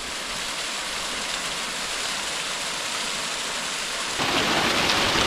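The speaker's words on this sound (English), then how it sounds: "we got this waterfall over here" A waterfall roars steadily and close beside a boulder field on Eldorado Peak, a dense, unbroken wash that grows louder and brighter toward the end, with no voices over it.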